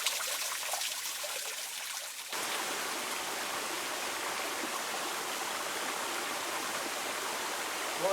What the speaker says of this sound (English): you get these little waterfalls that weren't happening last time I was here